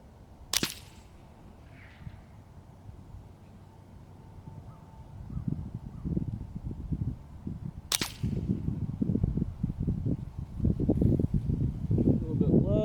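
Suppressed .22LR rifle fired at a 300-yard target, two sharp, close cracks several seconds apart, with people talking between and after the shots.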